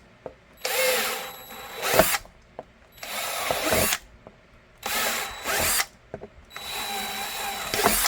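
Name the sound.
power drill drilling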